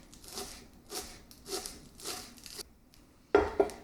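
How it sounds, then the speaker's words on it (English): Knife slicing through green onion on a cutting board, five soft rhythmic cuts about half a second apart, close and fairly quiet, then a brief gap and two sharper knocks. "I'm just going to cut up this green onion"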